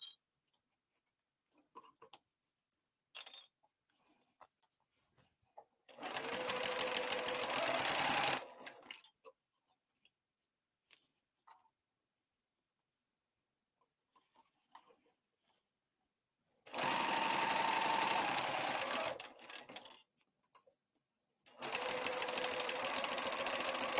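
A sewing machine stitches the exterior of a crossbody bag in three separate runs, each a steady, dense mechanical whirr lasting a few seconds, with quiet pauses and faint handling noises between them.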